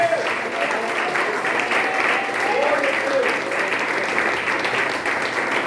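Church congregation clapping for Jesus Christ during a teaching service, a steady dense wash of applause sustained throughout, with a voice calling out over it.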